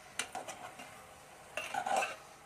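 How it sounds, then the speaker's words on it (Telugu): Chutney being stirred in a metal pot, with a few scraping, clinking strokes early on and a louder burst of utensil scraping near the end, close by and without talk. "మా అక్క కలుపుతుంది చట్నీ"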